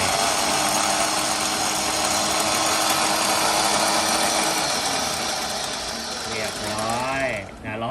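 A Hi-Winch X-18000 wireless 10 to 30 ton winch runs its large geared motor to release cable, a loud steady mechanical whine and grinding that holds throughout, then wavers and slows near the end.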